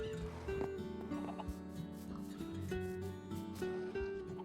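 Chickens clucking inside a barn in the Minecraft video game, soft repeated game-style clucks over a steady hum of other farm animal sounds, mid-distance and continuous.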